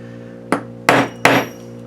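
A hammer strikes a piece of lead three times in slow succession, each blow a sharp, loud metallic whack that rings briefly before fading, with no talking.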